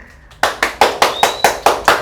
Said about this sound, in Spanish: ¡Aplausos, producción!